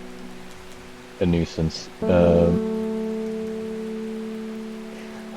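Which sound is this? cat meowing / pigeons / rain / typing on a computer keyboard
rain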